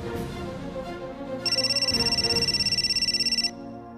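Ringback tone on an outgoing mobile phone call, a steady pulsing electronic ring lasting about two seconds, heard through the handset over soft background music with no talking.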